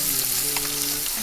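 Onions sizzle and fry in a pan for quail masala, a steady dense crackle lasting about a second, close and fairly loud with no talking.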